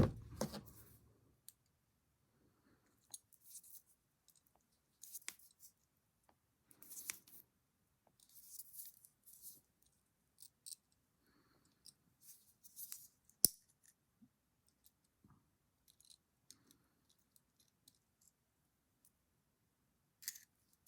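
Scissors snip through material while an antique dolls house is styled from recycled items, giving quiet, close, scattered crisp cuts and clicks separated by silent pauses.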